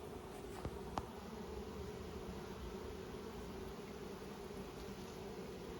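Honey bees buzzing in an open beehive, a steady dense hum that holds at an even level throughout with a faint tap near the start.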